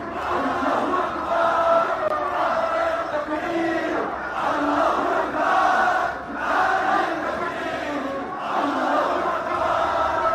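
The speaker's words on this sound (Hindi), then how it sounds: "और हर तरफ भारत विरोधी नारेबाजी हो रही है।" A large crowd of radicals near Bangladesh's parliament chants anti-India slogans, a loud rhythmic mass of voices rising and falling in repeated waves throughout.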